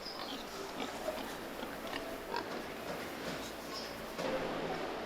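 Pigs raised with plenty of space on an animal-welfare farm, following their owner around, give low grunts and snorts amid a steady, busy farmyard background.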